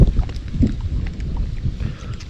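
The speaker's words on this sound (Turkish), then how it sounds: "Rüzgar çıktı." Gusty wind buffets the microphone in low rumbling bursts at a lakeside caravan camp, with faint water sloshing underneath.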